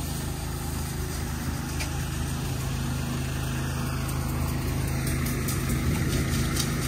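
Two pressure washer pumps running side by side, a steady loud engine drone with a constant hiss of spray, unbroken throughout.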